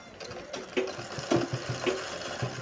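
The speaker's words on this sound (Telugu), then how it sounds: "ఇప్పుడు మనం దీనిపైన కుట్టు అనేది వేయాలండి" A sewing machine runs steadily while stitching the hem of a blouse, a close, continuous mechanical whir with a regular needle-driven rhythm.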